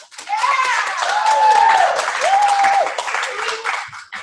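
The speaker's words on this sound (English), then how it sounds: "let's give a huge round of applause for Kristen Adolfi." A crowd at a recognition night applauds a guest speaker with loud, sustained clapping, and cheering voices and whoops rise over the applause before it fades near the end.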